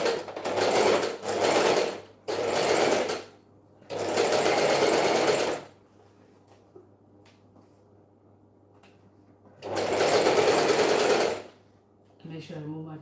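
A sewing machine stitches fabric from the bottom edge up on a home DIY garment, whirring loudly in four separate bursts with quiet pauses between them, up close.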